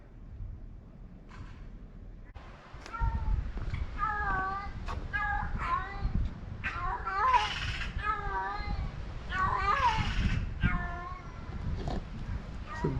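A blue-eyed cat in Nessebar, Bulgaria, gives a long series of odd, warbling meows, repeated closely and fairly loud, over low background rumble.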